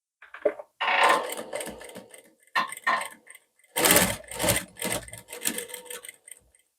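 A sewing machine stitches a dart on a blouse front in short bursts of rapid mechanical chatter. The bursts are separated by pauses and sound loud and close, with no talking.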